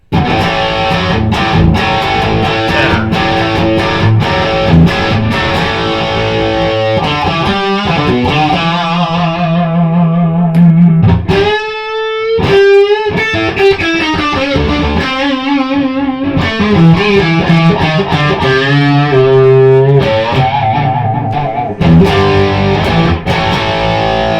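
Heavily distorted electric guitar, a 1978 Gibson RD, played alone and loud for a long stretch, moving between sustained chords, rapid riffs and bent notes.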